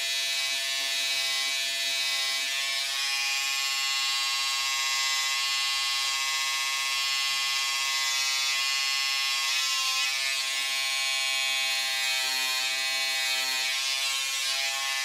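Electric trimmer shaping eyebrows, a loud, steady high-pitched buzz with a constant tone that runs unbroken throughout, no voices heard.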